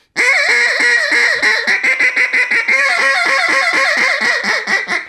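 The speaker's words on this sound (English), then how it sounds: "It's a hen mallard squealing." A hen mallard duck gives a rapid, loud run of squealing quacks, a steady rhythmic series close up and unbroken by talk.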